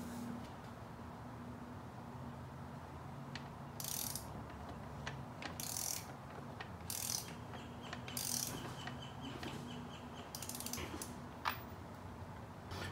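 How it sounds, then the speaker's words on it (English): A ratchet backing a bolt out of a Honda 400ex engine, heard close up as several short bursts of rapid clicking separated by pauses, over quiet workshop background. "Now we're gonna rotate the motor a turn and take the next bolt out."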